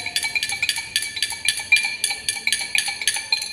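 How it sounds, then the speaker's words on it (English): A rod clinks rapidly against a glass beaker while stirring potassium dichromate solution, in a steady, ringing rhythm, bright metallic taps repeating several times a second, close and alone. "Continue stirring the solution"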